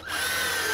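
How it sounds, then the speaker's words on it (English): A power drill bores pilot holes into the wooden top of a flat-bottomed boat, giving a brief close high-pitched steady whine that spins up quickly and holds. "we're gonna pre-drill this top"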